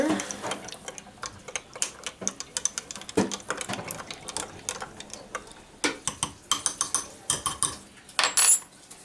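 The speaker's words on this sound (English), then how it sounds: "So I'll give that a little stir." A spoon stirring packet yeast in a bowl for homemade pizza dough, giving quiet, irregular clinks and scraping ticks that cluster more densely toward the end, with no talking.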